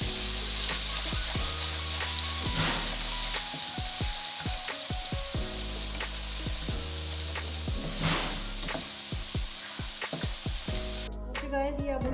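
Onion and garlic frying in a pan for a cabbage chicken dish: a loud, continuous sizzle with repeated clinks and scrapes of stirring, close up and steady, no voices.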